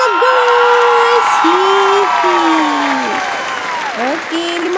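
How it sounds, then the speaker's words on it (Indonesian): Loud, steady crowd applause and cheering from a game-show style party event, continuous throughout, with a voice shouting over the top. "Tepuk tangan yang meriah untuk mereka guys."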